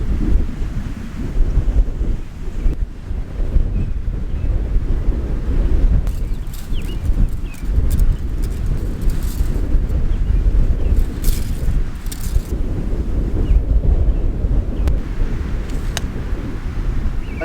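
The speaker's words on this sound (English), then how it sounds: "I don't know how good you guys can hear me with the wind and everything blowing" Strong wind gusts buffet the microphone outdoors on a farm, a steady, loud low roar with rising and falling gusts throughout and no voices.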